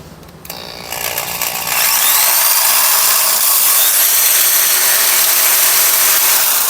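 SB Power Tool Company power tool made in Chicago, Illinois, running off an inverter: the motor spins up over the first two seconds into a loud, steady, high-pitched whine that holds through the end.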